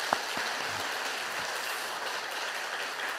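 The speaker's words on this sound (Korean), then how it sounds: "저희가 박수로 환영하겠습니다" A church congregation claps to welcome a first-time visitor, a soft, even patter of many hands spread across the room, moderately faint and continuous with a few louder claps near the start.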